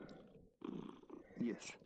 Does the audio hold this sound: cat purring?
yes